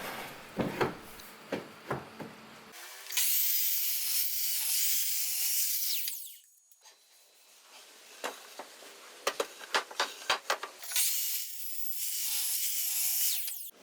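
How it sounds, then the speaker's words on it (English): A miter saw cuts through the overlap side of a wooden workbench part outdoors, two long loud bursts of whining blade noise separated by quieter knocks and handling clatter of wood. "I'm going to cut this overlap side with my miter saw"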